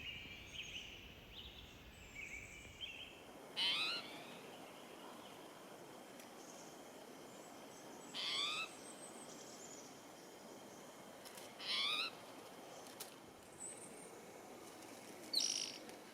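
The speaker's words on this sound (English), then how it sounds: "I'm hearing lots of birds." Birds call in the forest at Dungeness National Wildlife Refuge near Sequim, Washington. About four brief, high chirping calls come at intervals over a very quiet background, faint and somewhat distant.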